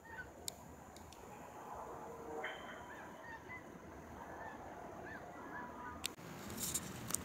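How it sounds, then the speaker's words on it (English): Geese in a flock honk faintly in the distance over a quiet outdoor background, the calls scattered and soft with no talking. "The flock of geese."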